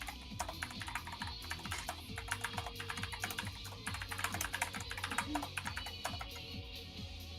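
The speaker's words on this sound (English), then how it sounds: "I always wonder what she's typing." Fast computer keyboard typing clatters steadily and close by, with dense irregular keystrokes running throughout over a soft layer of background music.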